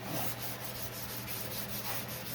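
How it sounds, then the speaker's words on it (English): A hand scuffs undercoating off a 1969 Dodge Dart fuel tank, a loud, close, continuous rubbing and sanding scrape with a steady back-and-forth rhythm, no voices. "gonna scuff this off a little bit"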